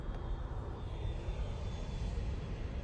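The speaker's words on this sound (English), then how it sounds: "EasyJet just touching down." EasyJet airliner touching down at Manchester Airport, a steady broad jet-engine rumble heard from a distance, continuous and moderately loud with no voices.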